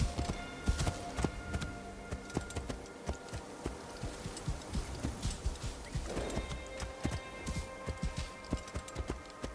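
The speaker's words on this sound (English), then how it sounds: "Horse is struggling. Slope is way too steep." Horse hooves clop irregularly in a medieval video game as the horse struggles up a very steep slope, the footfalls uneven and close, with no talking over them.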